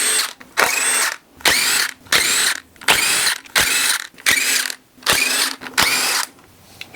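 A ratchet clicks in rapid bursts, about nine loud close runs with short pauses between, while a water pump is taken off a blown-up Chevy Cruze engine during teardown.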